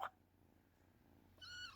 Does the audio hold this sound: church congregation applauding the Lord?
no